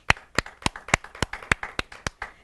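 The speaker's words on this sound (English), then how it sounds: "Big round of applause to her." A small group claps at a studio talk show, sharp regular claps at a steady rhythm, close and fairly loud.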